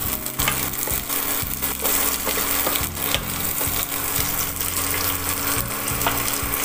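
Green vegetables sautéing in a pan for veg fried rice, a loud continuous sizzle with scraping and clattering stir strokes from start to end, no voices.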